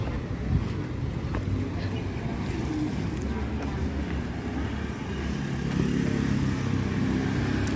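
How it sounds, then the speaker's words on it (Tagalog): A motorcycle stuck in flood water on a damaged road gives a steady, loud low engine rumble mixed with wind noise, holding on continuously and swelling slightly toward the end. "Ay, na-stuck ang motor."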